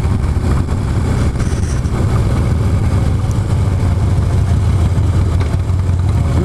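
A motorcycle engine runs steadily up close with a dense, low rumble that holds a constant level and shows no distinct surges of throttle. No one speaks.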